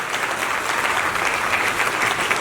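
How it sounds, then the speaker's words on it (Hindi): An audience at a network marketing event applauds its achievers with a dense, steady burst of clapping that keeps an even level throughout. "एक बार जबरदस्त तालियां"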